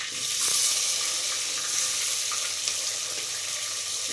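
Mustard seeds and onions sizzle steadily in a hot frying pan for an egg curry, a dense, even crackle held throughout at close range with faint stirring, no talk.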